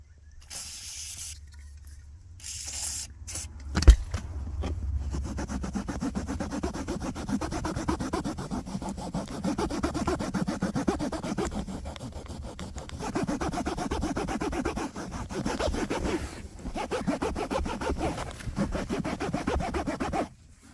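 Steady close rubbing and scrubbing on a car seat fabric to lift chewing gum with WD-40, a continuous soft friction sound with a sharp knock near the start.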